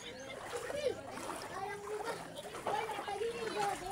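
Children splashing and playing in the sea at high tide on summer vacation, water sloshing close by with excited kids' voices and shouts throughout.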